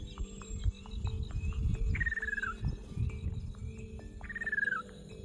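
A Javan hawk-eagle male calls to a female in a pine forest on the slopes of Merapi: two clear, drawn-out descending whistled cries, a few seconds apart, over steady insect trilling and a low rumbling background.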